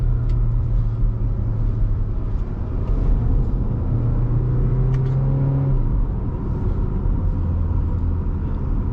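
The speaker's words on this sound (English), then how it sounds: "I do like how in the higher RPMs it doesn't really start to whine like most turbocharged 4-cylinders do." A 2024 Audi Q3 45 TFSI's turbocharged four-cylinder engine pulls at high RPM, a steady loud rumble and drone heard from inside the cabin, with rising and falling engine tones but no strong whine.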